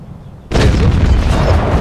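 A tank cannon's finishing shot in World of Tanks, a sudden loud boom after a brief quiet lead-in, then a broad rumbling roar that sustains to the end.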